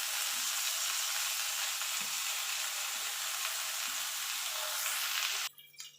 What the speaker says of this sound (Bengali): এবার এই তেলের উপরে একটা একটা করে বেগুন বসিয়ে দেবো।